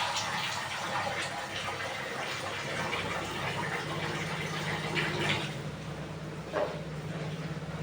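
Water pours steadily into a cooking pot in a home kitchen, a continuous rushing gush with a clink near the end.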